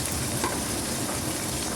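Ginger-garlic paste sizzles as it fries in a pan, a loud, dense, continuous hiss with no pauses and no voices.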